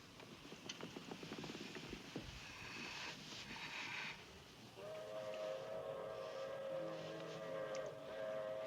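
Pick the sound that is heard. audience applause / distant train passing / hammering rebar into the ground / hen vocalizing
distant train passing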